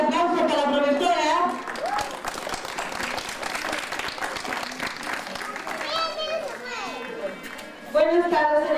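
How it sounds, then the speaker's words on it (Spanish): An audience claps for a teacher, the third-grade tutor, at a school Flag Day event with parents present. The steady applause fills several seconds between bursts of a voice speaking over a loudspeaker, and children's voices are heard near the end. "A ver, un fuerte aplauso para la profesora."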